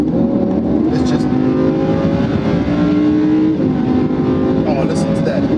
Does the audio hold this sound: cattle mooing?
no